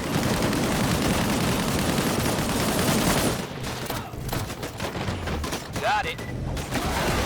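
Sustained gunfire rips through a firefight in the video game Disintegration: dense, loud volleys for the first few seconds, then sparser shots and impacts, with voices calling out in the mix.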